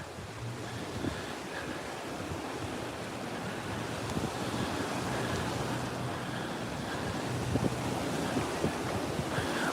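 Sea waves at Bournemouth beach wash in a continuous broad roar, with gusts of wind buffeting the microphone and no voices.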